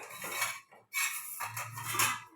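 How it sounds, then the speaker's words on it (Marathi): A spoon scrapes and clinks against a pan while guar bean curry with green chillies is stirred, in two bursts of metallic scraping separated by a brief pause, close and fairly loud with no talking. "एकदा गवारीची भाजी ओपन करून पाहूया आपण आणि थोडंसं चमच्याने तिला हलवून पाहूया"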